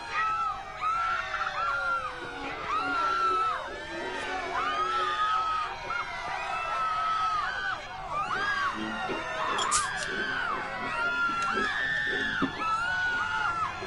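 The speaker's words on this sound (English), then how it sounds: "So now they're all screaming at the top of their lungs, and it's an infinite loop" Panicked NPC bystanders in Mafia 2 scream over and over in a repeating loop, many overlapping shrill cries and yells layered with distant city noise, continuous for the whole stretch.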